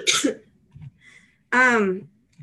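A harsh, breathy cough bursts out, followed after a pause by a rough, voiced throaty cough-like sound; close and fairly loud.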